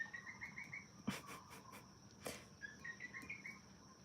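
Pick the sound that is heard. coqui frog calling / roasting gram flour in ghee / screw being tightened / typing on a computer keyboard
coqui frog calling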